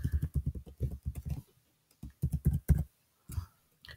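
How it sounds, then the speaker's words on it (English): Someone types a password on a computer keyboard in quick, uneven bursts of clicking keystrokes. Two runs of typing are split by short pauses, and a few isolated taps come near the end. "I am typing in a super secret password."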